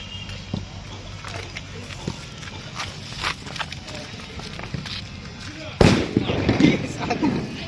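Firecracker bombs bursting during Diwali fireworks testing outdoors: scattered small pops early on, then a sharp loud bang near the end followed by crackling, with voices talking throughout.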